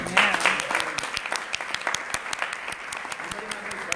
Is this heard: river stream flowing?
no